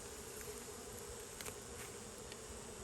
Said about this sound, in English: What are they hovering around, all them bees?